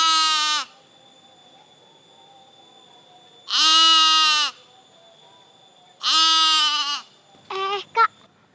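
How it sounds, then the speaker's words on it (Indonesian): A goat bleats four times, with long gaps between the first three calls and a short broken cry at the end, clear and fairly close in otherwise quiet surroundings. "Kak, dengar suara kambing nggak?"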